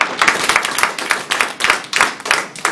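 A small group at a public DISH hearing claps in a loose, uneven burst, sharp hand claps close and fairly loud, lasting a few seconds with no talking.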